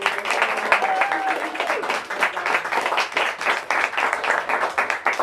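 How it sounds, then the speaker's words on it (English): An event audience applauds two guests, Thomas Lee and David R. Baker, after a talk on the Bruce Lee Code, with dense rhythmic clapping close by and some voices mixed in underneath. "Can we give one more round of applause for Thomas Billy and David?"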